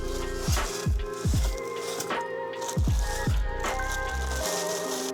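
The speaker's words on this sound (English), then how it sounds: "So this is 200 grams of steel pins. We're going to throw those in there." About 200 grams of steel pins tumble into the water of a magnetic tumbler, making repeated close wet squishing and rattling splashes with metallic clinks.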